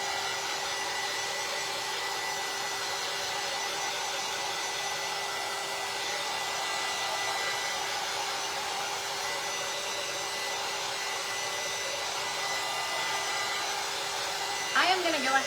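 A hair dryer blows steadily and close for the whole stretch, drying paint on a handmade patriotic angel craft, with a brief clatter right at the end.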